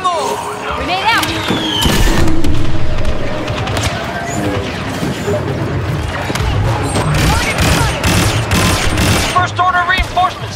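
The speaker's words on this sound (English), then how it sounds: "Grenade out!" In a video game battle, dense gunfire rattles alongside a loud grenade blast. The sound is close and chaotic, and voices shout over it now and then.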